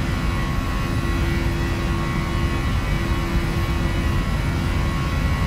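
Boeing 737 jet engines at takeoff thrust in a flight simulator game produce a steady, loud, broadband roar with a constant whine running through it, unbroken and with no talk over it.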